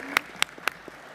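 Applause in the New York City Council chamber during a stated meeting, a few distinct sharp claps at a steady rhythm, moderately close and fairly faint.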